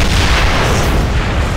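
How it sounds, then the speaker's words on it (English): A big explosion in Ghostbusters: The Video Game roars loud and broad, a sustained booming blast filling the entire moment. "Big explosion."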